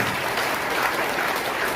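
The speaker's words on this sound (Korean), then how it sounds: "우리 이정민 전 장관님께 감사의 박수를 보내주시면 고맙겠습니다." Dense, continuous applause from a large audience at a freedom-unification rally in a hotel ballroom, loud and even over a short stretch.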